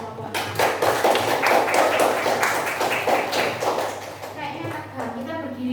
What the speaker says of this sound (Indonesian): Tepuk tangan untuk kelompok 5 dan kelompok 6